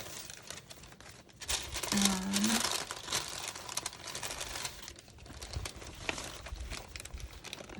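Dry paper crinkles and rustles in bursts as it is handled nearby, with a faint bird chirp and soft background noise.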